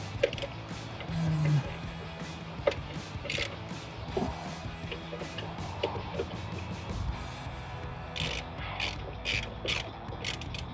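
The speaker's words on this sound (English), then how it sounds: "Get our ratchet back, connect it up, flip the switch. Just tighten it" A ratchet clicks through repeated short strokes tightening the ignition coil bolts on a 2005-2010 Ford Mustang during a C&L Blue Lightning coil install, with scattered metallic clicks and rattles near the microphone.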